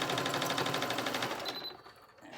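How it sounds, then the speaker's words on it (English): A sewing machine runs in a steady, rapid whir while back stitching a seam on an oversized t-shirt being made into a cropped jacket, then stops and the sound drops away near the end. "I'm going to do a little back stitch here as well."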